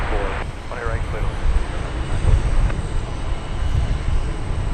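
An airplane at DFW Airport gives a steady, broad engine roar that swells and eases a little. Radio chatter and other voices sound over it at moments.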